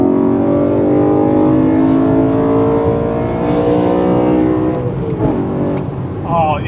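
A BMW E92 M3 pulls hard under acceleration, its engine a loud, dense, close drone with strong harmonics that holds for several seconds before easing, with a few brief clicks and rattles near the end.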